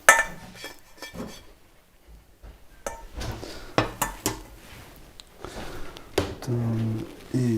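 Soup is served up with pots, dishes and cutlery: scattered clinks, clatters and scrapes of metal and crockery, close and irregular, with brief speech mixed in.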